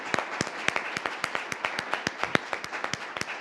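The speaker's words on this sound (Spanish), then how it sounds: "les damos un aplauso por habernos compartido" An audience gives brief applause, a series of sharp, fairly quiet claps spread at an uneven rhythm for a few seconds.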